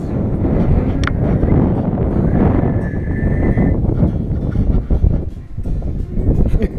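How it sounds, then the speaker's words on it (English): Strong wind buffets the microphone on a mountaintop in the Davis Mountains, a loud continuous roaring rumble with gusty surges throughout, no voices audible. "Probably can't hear anything we're saying with the wind."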